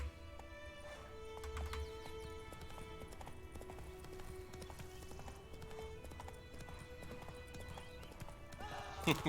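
Roach, a horse in The Witcher III video game, clip-clops along in a steady quiet hoof rhythm, with game music tones and occasional voices over it and a brief louder burst at the end.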